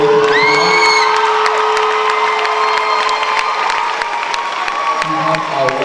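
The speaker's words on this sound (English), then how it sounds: "Please let's have a round of applause." A loud crowd cheers, whoops and applauds for a drama cast, with excited shouts and sustained clapping throughout, some voices rising in high-pitched calls.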